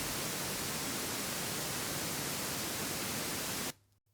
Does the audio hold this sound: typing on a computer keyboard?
no